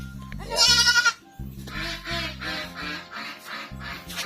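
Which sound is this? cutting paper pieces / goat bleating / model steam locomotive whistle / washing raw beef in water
goat bleating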